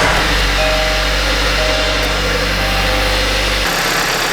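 Kia Sportage engine running at a steady idle right after a spark plug replacement, a loud continuous low hum that holds evenly before dropping away near the end.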